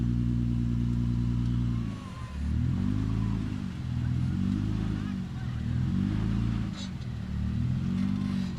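A Jeep's engine labors and revs in repeated rising surges while climbing a rocky off-road section at Easter Jeep Safari, close and fairly loud, with a voice talking over it.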